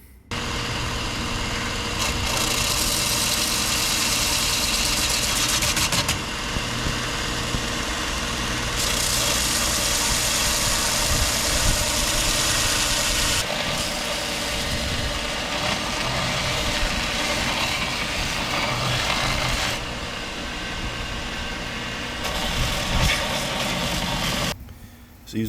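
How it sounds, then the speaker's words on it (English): A Bauer 4x36 belt sander grinds steadily against a Molle panel for a range box, a loud continuous whir with rough, shifting friction that runs nearly the whole time and cuts off at the end. "using this Bauer 4x36 belt sander, it actually worked way better than I thought"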